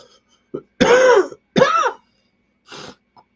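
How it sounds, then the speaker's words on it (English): A man coughs and clears his throat in two loud, rasping bursts, followed by a quieter third rough clearing and small throat noises in an otherwise quiet room. "Excuse me, my cough again."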